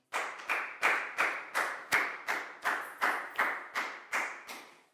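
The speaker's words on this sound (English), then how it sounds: "High five and a big round of applause for Nadia, please, guys." A Year 4 class claps together for a student in a slow, even rhythm of about a dozen unison claps, close and moderately loud, fading slightly at the end.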